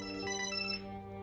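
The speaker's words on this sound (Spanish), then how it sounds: "Llaman y llaman a tu teléfono, ¿no se detienen?" A telephone ringtone chimes steadily in a short burst, a clear sustained electronic ring close by with no talking over it.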